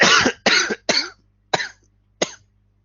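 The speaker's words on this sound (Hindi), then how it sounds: "खांसी ज्यादा हो रही है" A man coughs five times in a row after smoking a flavored cigarette. The harsh, loud bursts come close together at first and then spread out with short silent gaps.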